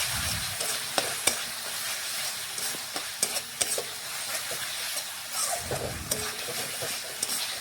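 Spice masala sautéing in oil with salt added, a continuous sizzle with intermittent stirring scrapes and clicks, close and steady.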